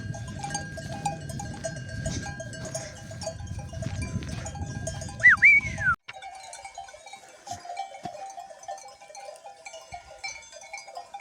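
Sheep bleat now and then while grazing on a highland summer pasture, among soft rustling and distant tinkling bells outdoors; a high sweeping call rises briefly midway.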